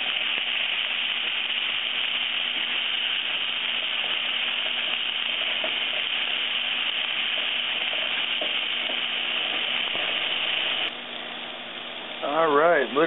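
Mushrooms sizzle steadily in a hot pan while being cooked for venison marsala, a continuous close frying hiss that runs nearly throughout before a voice briefly speaks near the end.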